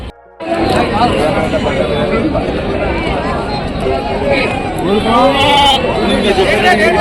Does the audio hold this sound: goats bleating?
yes